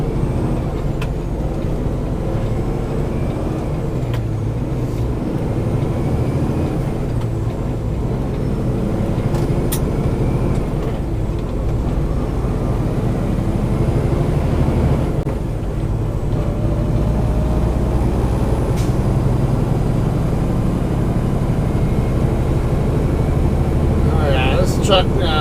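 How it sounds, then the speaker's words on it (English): A truck accelerating on a road near Tyler, Texas gives a steady, loud engine drone mixed with broad road and wind noise that holds throughout. "This truck definitely accelerates like it has a lighter load."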